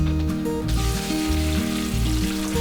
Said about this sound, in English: And fry the prawns.